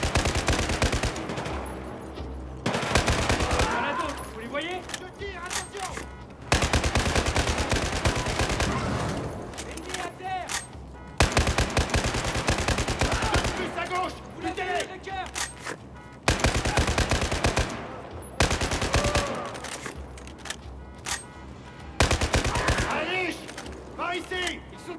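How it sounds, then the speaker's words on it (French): Sustained automatic gunfire in the Battlefield 4 video game, loud bursts of rapid shots in repeated long volleys separated by brief pauses, with a voice speaking between and over the firing. "Je tire, attention!"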